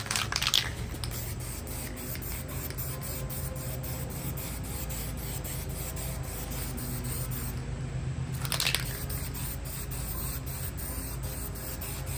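A spray gun hisses steadily in a long continuous pass applying a first base coat of paint to a truck, with brief louder bursts near the start and again partway through.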